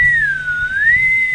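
A single loud, close whistle rises and dips in pitch in a smooth sliding tone, with nothing else heard.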